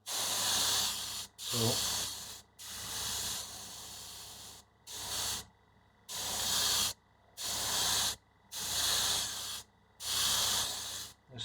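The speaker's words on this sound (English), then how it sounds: "I should note that I'm not experienced with the airbrush." An airbrush sprays paint onto a prop tablet in about eight steady hissing bursts, each roughly a second long with short gaps between them. The hiss is close and fairly loud, and a brief word is spoken early on.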